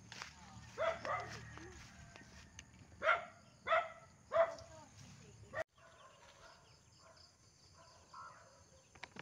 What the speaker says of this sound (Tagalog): Laki ng aso mga Pinoy.